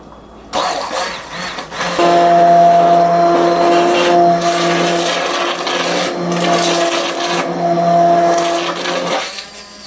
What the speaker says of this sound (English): This is my immersion blender or stick blender.